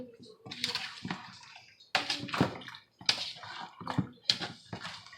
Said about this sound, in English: we're just going to give it a good little mix to kind of incorporate everything